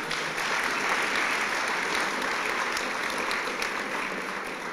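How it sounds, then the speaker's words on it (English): A crowd applauds steadily at a service dog class graduation, dense clapping from many hands at an even level for several seconds, with no voices standing out. "How about big round of applause?"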